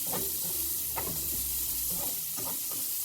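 Carrots sizzle in a pan of hot oil while bean sprouts are being cooked, a steady loud frying hiss broken by occasional stirring scrapes and clatters.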